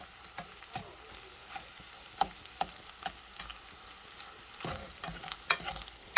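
Pad Thai with egg is stir-fried in a pan, a low sizzle under irregular scrapes and taps of a spatula that grow busier and louder toward the end, heard up close without speech.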